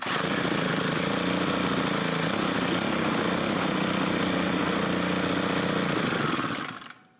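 A small Stihl gas engine runs with a loud, steady buzzing drone that holds for about six seconds, then stumbles and winds down to silence as it hesitates and dies.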